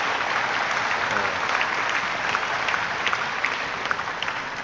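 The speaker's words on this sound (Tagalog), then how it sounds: "Palakpak sila" An audience in a congress hall applauding, a dense sustained clatter of many hands clapping at steady loudness throughout, with no voices standing out.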